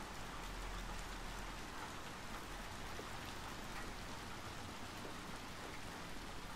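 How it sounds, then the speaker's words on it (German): Heavy pouring rain in the video game Little Nightmares II hisses steadily and densely without a break, loud and constant with a low rumble beneath it. "Lässt er da einfach sein Fenster offen? Bei diesem strömenden Regen."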